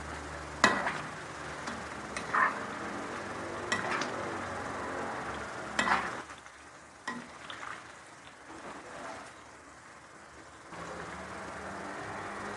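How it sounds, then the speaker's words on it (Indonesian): Tofu coated in flour is stirred in a bowl, with irregular scraping swishes and a few sharp knocks of the utensil against the bowl, loud at first and then quieter. No one speaks. "terus diaduk-aduk kayak gini biar tepungnya pada menempel ke tahunya"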